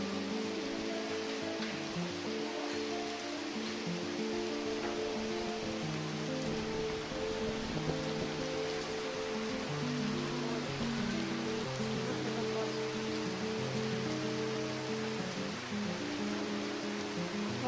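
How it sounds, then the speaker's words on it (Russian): A waterfall at Gabala pours with a constant rushing roar heard from close by, unbroken and even throughout, with no one speaking. "Водопад всем красавец."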